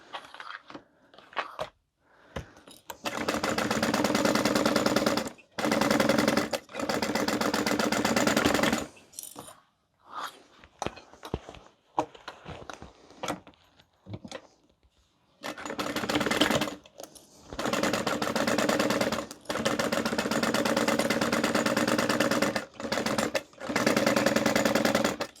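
A sewing machine stitches tote bag pieces in repeated loud, steady runs separated by brief pauses and quiet handling, continuing at length.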